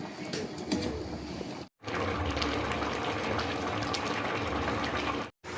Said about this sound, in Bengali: এবার একটু ভালোভাবে ফুটুক